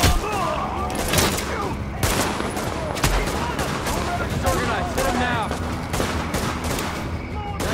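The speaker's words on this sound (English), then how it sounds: "He's shooting at me." Gunfire in the video game The Division during a precinct siege, dense rapid bursts of shots and booms, loud and continuous, with game voices shouting over the fighting.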